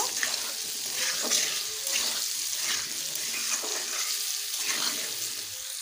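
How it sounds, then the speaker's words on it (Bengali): Potatoes fry in hot oil with a steady hissing, crackling sizzle and occasional stirring scrapes, close and continuous, with no talk. "আলুটাকে ভালোভাবে ভেজে নেব।"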